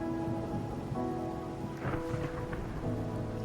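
Rain and thunder in Wuthering Waves: steady rainfall patters throughout while a low thunder rumble swells in the middle, with sustained musical tones underneath and no talking.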